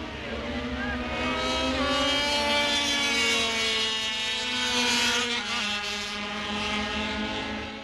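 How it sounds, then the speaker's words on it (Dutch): Small 50cc racing motorcycles shriek at high revs during the 1968 TT Assen race, a loud, sustained whining drone with shifting pitch as machines pass, filling the whole stretch without talk. "Bij de hooggillende motoren met hun cilinderinhoud van een bromfiets zijn er met 14 versnellingen."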